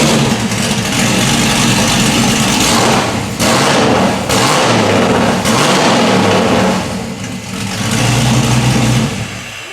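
An LS-swapped Ford Bronco V8 with no muffler idles loud and raw up close, the rumble rising in a few short revs and dipping between them, with no voices over it.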